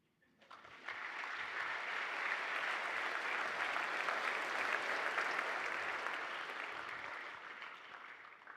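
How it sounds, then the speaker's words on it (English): An audience claps at a Christian Emphasis Week assembly at Westminster school, a broad, even wash of applause that swells in quickly, holds for several seconds and slowly tapers off. "That's a good place to clap."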